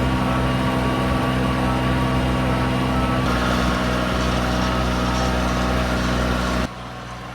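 A tractor engine drones steadily as it drives down a road, a loud, continuous mechanical hum with a constant pitch that cuts off sharply near the end.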